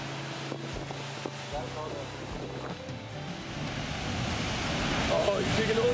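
Waves crash against the rocky windward shore of a Cape Verde island, a broad wash of surf building louder toward the end, mixed with wind buffeting the microphone.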